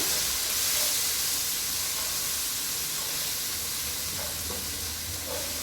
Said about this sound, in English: Then we stir them together very well.